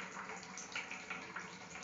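Water streams steadily out of three small holes set at the same height in the side of a filled container, a soft continuous splashing and trickling that stays fairly quiet and even throughout.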